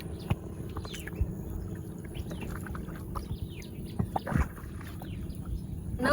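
A wooden boat is paddled on a river, with soft intermittent paddle splashes and knocks alongside chirping birds in an open outdoor setting.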